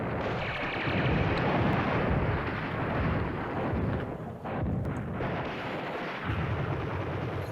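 Heavy artillery barrages rumble across a wargame battlefield in Command Ops 2, dense overlapping booms forming a continuous loud roar with brief lulls, no voices.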